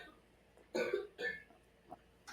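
A child coughs twice in quick succession nearby, short harsh bursts in an otherwise quiet indoor room, followed by a faint shuffle.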